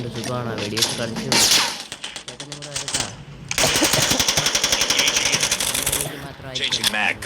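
Rapid bursts of gunfire from a shooting video game with squad callouts, loud and close, firing in dense volleys with short pauses while a person talks over it.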